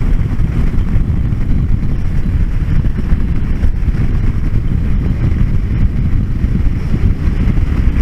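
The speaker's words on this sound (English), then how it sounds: "I just saw a tumbleweed fly across my road here, so that's how windy it is" Strong gusty wind blows hard and constantly, a loud low rumbling roar buffeting the microphone throughout with no speech, on a windy road where tumbleweeds are flying past.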